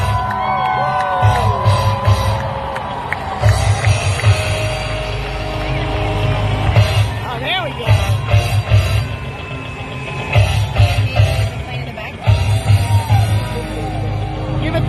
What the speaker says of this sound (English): we should also remove the crowd noise